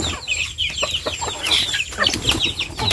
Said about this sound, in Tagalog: Manok na to.